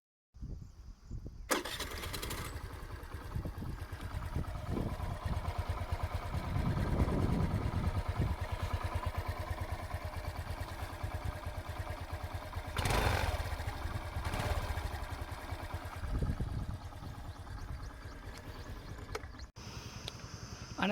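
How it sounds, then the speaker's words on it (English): A 2019 Suzuki Burgman Street 125 scooter in matte black starts and settles into a steady close idle, its exhaust note holding continuously with a few brief swells, heard on its own with no talking. "So now let's start the vehicle and listen to the exhaust note."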